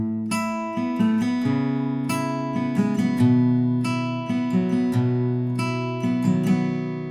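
Guitar playing the chord pattern of a song without a capo, mixing picked individual strings with light strums, a steady sequence of ringing chords and note attacks, close and clear with no talking.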